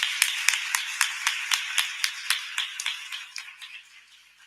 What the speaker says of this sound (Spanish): se merecen un aplauso y que me retire